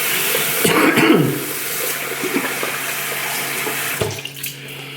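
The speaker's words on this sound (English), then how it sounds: "Wash my hands." A bathroom tap runs while hands are washed, water splashing into a sink in bursts, close and fairly loud, then the flow cuts off near the end leaving a quiet hum.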